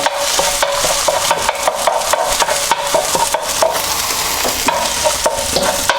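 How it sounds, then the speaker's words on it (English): A spatula scrapes and chops through frying egg in a hot wok while it's made into Chinese egg fried rice, with steady loud sizzling and repeated sharp metallic taps and scrapes in an irregular rhythm, close up, with no voices. "So just break it up nicely with a spatula."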